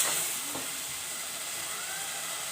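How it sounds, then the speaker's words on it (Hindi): Meat curry frying in oil gives a steady, soft sizzling hiss that stays even throughout, heard alone and fairly faint. "सालन हमारा अच्छी तरीके से भून रहा है।"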